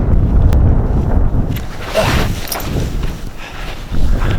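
Strong wind buffets the microphone on the summit of Ben Venue above Loch Achray, a steady loud roar with rumbling gusts and no talk.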